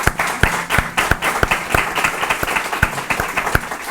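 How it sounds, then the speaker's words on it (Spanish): Audience applause in a hall, loud and close, with sharp individual claps standing out in an uneven rhythm over a lighter crowd patter, alone without talk. "Y otro aplauso para ella también."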